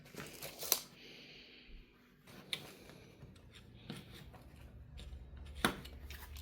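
Headliner material is cut inside a Jaguar XKR during a roof-lining replacement, heard as four sharp, separate snips spread across a quiet interior with faint rustling between them.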